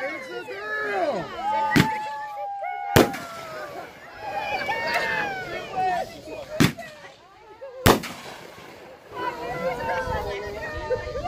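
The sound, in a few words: firecracker bangs at a gender reveal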